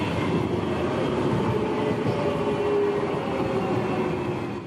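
A Croydon tram rolls out of a tunnel as its brakes are applied, giving a steady rumble of wheels on rails with a faint thin squeal threaded through, with no voices.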